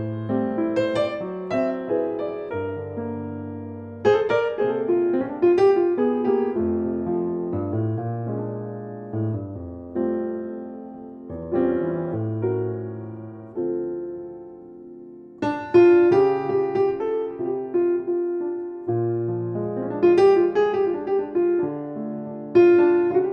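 Solo piano plays the bridge section of a song, with chords and melody phrases rising and falling in steady rhythm, close and clear with no talking.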